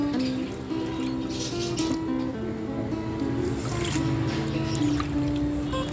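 Water is poured from a measuring cup into a pot holding sugar to make syrup for mango malpua, a continuous close splashing, gurgling pour that carries on throughout.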